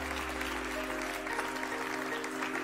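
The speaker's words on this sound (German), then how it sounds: "Einen großen Applaus nochmal." Applause at the Deep Tech Award 2022 ceremony as a VDE membership prize goes to a winner, a steady wash of many hands clapping with a low hum running underneath throughout.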